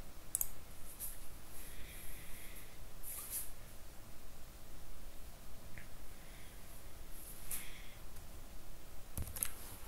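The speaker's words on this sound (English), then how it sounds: "Select the supplier table, click on finish." A few sparse, sharp clicks of a computer mouse in a quiet room, with a low steady background hiss between them.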